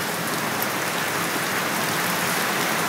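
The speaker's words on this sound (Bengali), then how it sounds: "এতটা রীতিমতো মারাত্মক লেভেলের বৃষ্টিটা পড়ছে" Heavy rain pours down during a storm, a dense, loud, even roar of drops that stays constant with no pauses.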